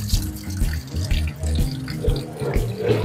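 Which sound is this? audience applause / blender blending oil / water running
water running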